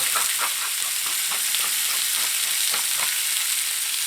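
Spanish mackerel searing in a lightly oiled pan, a loud, steady crackling sizzle with rapid popping spatters throughout.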